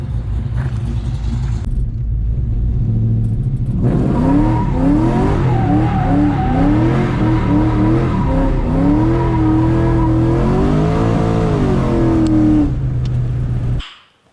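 LS1 V8 VN Commodore heard from inside, idling with a deep rumble, then pulling away as the engine note climbs and falls through repeated rising sweeps, loud and close, before cutting out at the end.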